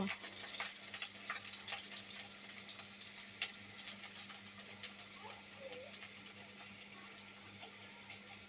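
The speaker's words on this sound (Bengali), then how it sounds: "এবার এগুলো নেড়ে চেড়ে ভেজে নেব।" Chopped onions stirring and frying in hot oil in a home kitchen, a steady soft sizzle with faint scraping and stirring knocks, a low constant hum underneath, no talking.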